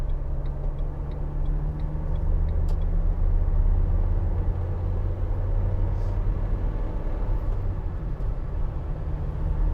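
A 2016 Vauxhall Vivaro 1.6 CDTi ecoFLEX BiTurbo Sportive van cruising on the road, with a steady low engine and road rumble inside the cabin and a few faint ticks early on.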